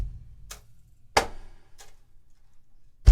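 A basic cajon groove played with a brush: sparse, dry slaps and soft brushed swishes spaced about half a second apart, close and fairly quiet, with a sharper hit at the very end and no voice.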